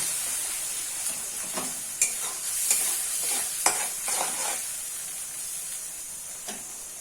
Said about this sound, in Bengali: লঙ্কা গুঁড়ো হলুদ গুঁড়ো আর পরিমাণ মতো আদা দিয়ে দিলাম দিয়ে এবার এটাকে একটু কষে নেব